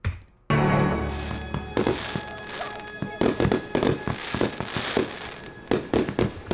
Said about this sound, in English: The fireworks are epic.